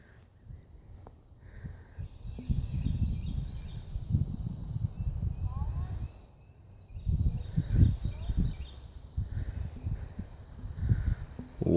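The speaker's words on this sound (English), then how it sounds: "you can hear the birds in the background" Birds sing outdoors on a spring homestead among peach trees, faint high chirps and short song phrases in the distance over rustling and footsteps on the ground.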